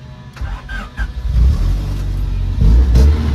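A 1997 Honda Civic EK hatchback engine cranks and catches, starting with a few uneven turnover pulses, then settling into a loud, steady idle close by.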